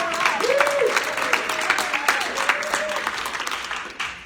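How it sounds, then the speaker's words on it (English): A Rotary Club meeting audience claps in a steady round of applause, quite close and moderately loud, while someone speaks over it. "Small clap. More clap. More clap. Clap."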